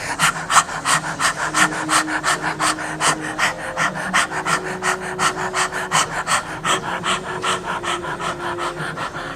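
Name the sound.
rapid pumping yoga breath from the navel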